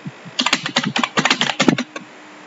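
Rapid keystrokes clatter on a computer keyboard as an address is typed in, a dense run of close, crisp clicks that ends in a brief pause, with no talking.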